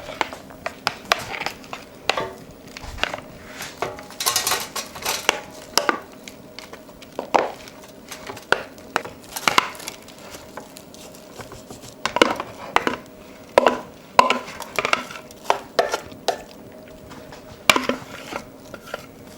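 Nut and fruit bar mixture pressed and tamped into a lined pan, giving irregular dull thumps and scraping knocks repeated over many seconds, close and moderately loud with no talk.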